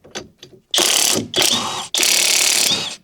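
A power wrench spins a cracked 19 mm non-impact socket, giving a few faint ticks and then three loud whirring ratcheting bursts, each cut off by a brief pause.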